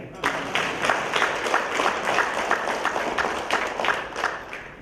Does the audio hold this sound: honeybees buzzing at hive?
no